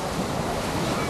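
Steady roar of ocean surf on Waikiki Beach, continuous and broadband with wind noise buffeting the microphone.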